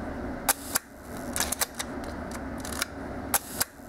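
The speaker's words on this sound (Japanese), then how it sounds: "4分の1秒もしっかりと刻んでまして、低速に粘りやシャッター幕の遅れなどないのがお分かりいただけると思います。" A 1968 Leica M4 rangefinder camera firing its shutter at a quarter-second setting, each release a crisp mechanical click pair spaced apart, repeated several times up close in a quiet room.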